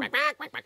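Cartoon ducks quacking in a children's animated show, a quick series of four nasal quacks, close and clear, with one longer call followed by three short ones.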